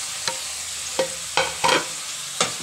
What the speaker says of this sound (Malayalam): ഈ അരിഞ്ഞു വെച്ചിരിക്കുന്ന ബീഫ് ചേർക്കുവാണ് അങ്ങോട്ട് കേട്ടോ